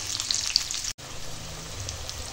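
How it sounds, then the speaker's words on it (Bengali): Spiny gourd and pointed gourd frying together in oil with salt and turmeric, a loud steady sizzle close up, briefly cut by a moment of silence before the crackling resumes. "এখন কাঁকরোল আর পটল একসঙ্গে ভাজা হচ্ছে"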